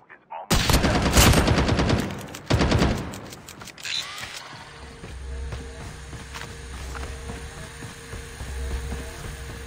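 Rapid automatic gunfire in Call of Duty Mobile, a loud burst of closely spaced shots for about three seconds, followed by quieter mechanical clicks and a low hum.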